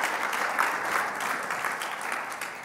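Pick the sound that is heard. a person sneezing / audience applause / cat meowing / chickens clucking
audience applause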